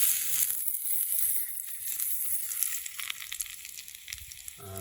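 Food fries and sizzles in a pan on a small Trangia Mini camping stove, a steady close crackling hiss with scattered pops and scraping stirs throughout, no voices.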